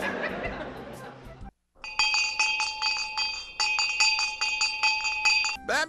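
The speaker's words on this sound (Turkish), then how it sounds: "Ben bir çan sesi duydum." Speech briefly at the start, then a pause, followed by repeated bright bell rings in a quick, uneven series, clear and close.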